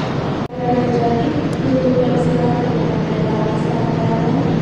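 Ranggajati passenger train pulling into track 3 at Jombang station, a steady loud rumble and hum of the train heard from onboard, with a sharp knock near the start and faint squeals above.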